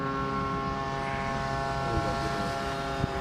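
A scale F4F Wildcat model airplane on its maiden flight drones steadily at a distance on its downwind leg before landing, with an even, humming engine tone that barely changes.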